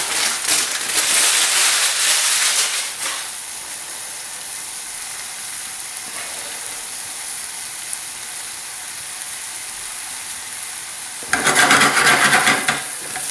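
Beef searing in a hot pan for a curry, with loud sizzling and stirring bursts at the start and near the end and a steadier, quieter hiss in between.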